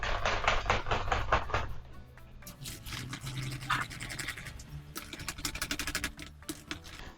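Dégué preparation is stirred with homemade yogurt in a bowl, giving rapid rhythmic scraping and clicking strokes in bursts, close and fairly loud, with brief pauses between rounds of mixing.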